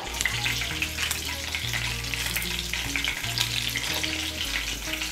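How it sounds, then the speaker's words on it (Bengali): A bay leaf and two dried chillies fry in hot oil left in a wok after earlier frying, giving a steady, close crackling sizzle with a low background hum and no talking. "এর মধ্যে আমি দিয়ে দিচ্ছি একটা তেজপাতা, দিয়ে দিচ্ছি 2টো শুকনো লঙ্কা,"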